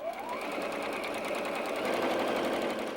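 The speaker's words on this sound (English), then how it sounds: "I'm just going to sew these 2 together to make my little row" A sewing machine runs steadily and close by for about three seconds, stitching two quilt pieces together into a row of a tree-pattern quilt block, with a continuous motor whir and rapid needle rhythm and no talking.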